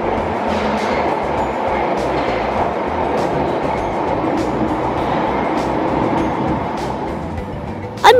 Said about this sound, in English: Underground, also called subway or metro,